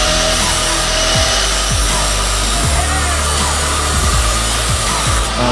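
An angle grinder cuts through metal in a welding workshop, giving a steady, loud, continuous grinding roar with a heavy low hum and occasional scraping shifts as the disc bites. No voices are heard.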